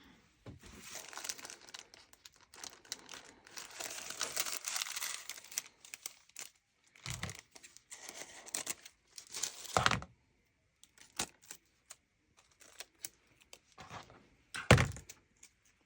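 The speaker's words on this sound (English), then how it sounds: "I'm going to get some tape and get that on there." Tape crinkles and tears off a roll at close range, with crumpling handling noises, a few soft knocks and quiet gaps between bursts.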